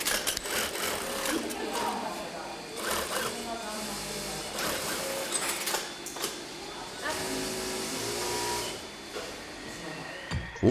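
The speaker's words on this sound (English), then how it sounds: "they sew in cross seams along the design that was sketched out earlier" Sewing machine stitching cross seams through the quilted shell of a down jacket, a steady mechanical whir with short stop-start bursts, close by, while people talk over it.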